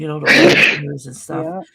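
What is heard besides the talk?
sneeze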